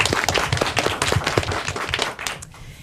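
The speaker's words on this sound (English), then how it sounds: "I like a big round of applause for yourself." A school audience claps after an elementary academic derby match, a brisk patter of many hands that fades out near the end.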